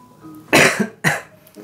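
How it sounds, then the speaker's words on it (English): Two loud, close coughs in quick succession from a person with a persistent cough, each a harsh burst with a short pause between, in an otherwise quiet room. "I'm still having this persistent cough quite often."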